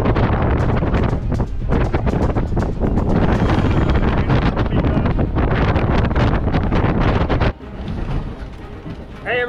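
Strong 25–30 knot wind with gusts into the 40s roaring and buffeting the microphone aboard a boat in the Bahamas, loud and continuous, easing briefly near the end.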